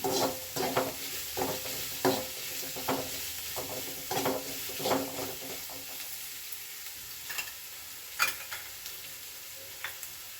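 Onions and cumin seeds frying in oil for hotel-style jeera rice, a soft steady sizzle broken by irregular scraping clicks from stirring, fairly quiet and close.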